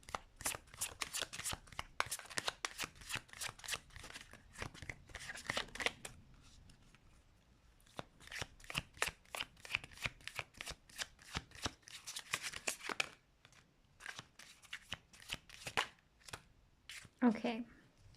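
Tarot cards being shuffled up close in repeated riffling bursts with brief pauses, while a voice talks softly underneath.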